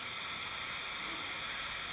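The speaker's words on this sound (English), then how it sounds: "white noise" Steady broadband white noise with a flat, hissing character, constant and fairly quiet throughout with no voices.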